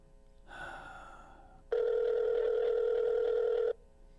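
A telephone rings steadily for about two seconds, calling a house line, after a short burst of muffled background noise; the ring is loud, close and continuous, ending abruptly.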